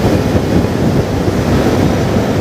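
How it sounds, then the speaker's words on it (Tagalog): Strong wind roars steadily past the microphone near an elevated highway off-ramp to Roxas Boulevard, a loud, continuous rumbling buffet with no break. "Grabe ang lakas ng hangin."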